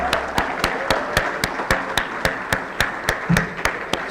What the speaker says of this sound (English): let us give Dr. Akim Adekombi another round of applause